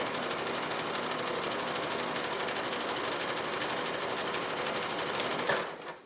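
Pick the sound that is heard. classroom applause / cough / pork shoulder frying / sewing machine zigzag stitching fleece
sewing machine zigzag stitching fleece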